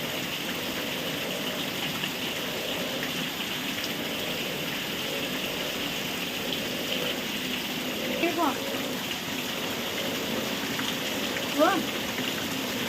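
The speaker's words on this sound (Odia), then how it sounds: "ଦେଖନ୍ତୁ ଫ୍ରେଣ୍ଡ କେମିତି ବର୍ଷା ହେଉଛି" Steady rain falls on a village home in July, a constant even hiss of drops over the whole stretch with a couple of faint brief sounds rising above it.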